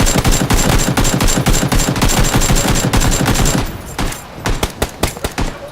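Rapid, loud gunfire crackles in the PUBG battle royale video game during a squad match, dense bursts of automatic shots in fast succession, then thinning to scattered single cracks toward the end, with no talk over it.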